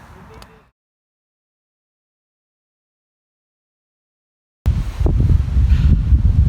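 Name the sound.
strong wind blowing at campsite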